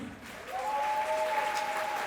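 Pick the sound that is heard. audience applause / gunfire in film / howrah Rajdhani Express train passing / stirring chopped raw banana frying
audience applause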